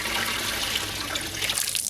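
Water streams and splashes steadily as a wet animal hide is wrung out during tanning, a close, continuous rush of dripping and pouring liquid.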